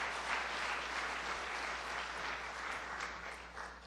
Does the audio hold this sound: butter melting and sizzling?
no